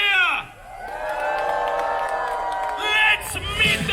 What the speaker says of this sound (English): They need one last cheer to bring them out.